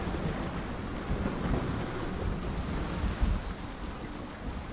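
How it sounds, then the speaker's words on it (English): Steady rain in the Hellblade: Senua's Sacrifice video game, a dense continuous wash of broadband hiss with a faint low rumble, even and unbroken throughout with no voices. "Oh, it's raining."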